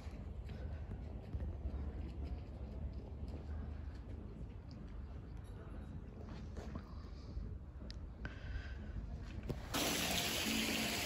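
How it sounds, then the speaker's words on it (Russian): Hot spring water pouring into outdoor thermal baths at the Gedeuko complex near Nalchik in the Caucasus, a steady broadband gush running throughout and swelling louder near the end. "из горячего источника идут эти воды"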